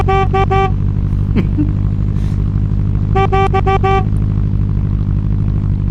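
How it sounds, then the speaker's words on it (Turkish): A vehicle horn in the off-road driving game Offroad League Online sounds in two bursts of rapid repeated beeps over a loud, steady engine drone, with a brief sliding tone in between. "kornaya basalım."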